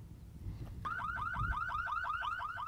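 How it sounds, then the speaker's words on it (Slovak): Alarm notification from a KEETEC GPS Sniper car tracker: a loud, rapidly warbling electronic siren starts abruptly partway through and repeats in quick, even cycles, with faint low rumble underneath. "teraz podľa všetkého by mi malo prísť aj poplachové hlásenie"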